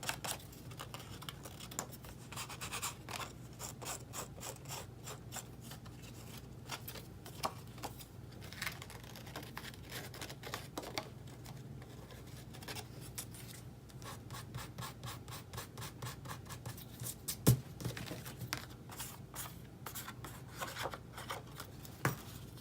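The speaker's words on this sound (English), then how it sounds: "I am, however, going to file that down a little bit." A file rasps against the edge of a paper viewfinder card in many quick, quiet scraping strokes that come in bursts, close up and with no voices.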